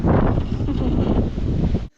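Strong wind buffets the microphone in a loud, continuous roaring rumble outdoors, where a ramp lifts off the ground in the gusts, cutting off abruptly at the end.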